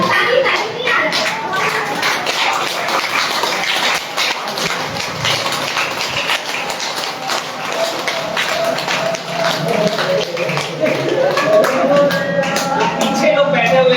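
An audience claps at a product presentation for a GS-Belt, uneven and scattered across the room, with voices and some chatter mixed under and between the claps.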